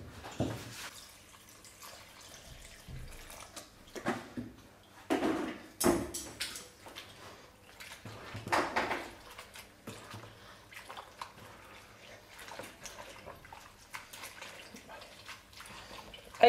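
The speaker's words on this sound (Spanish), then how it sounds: "voy a por más agua y lo relleno" Cold water runs and splashes into a container of paper pulp for about sixteen seconds, a steady low wash with scattered drips and a few louder sloshing bursts.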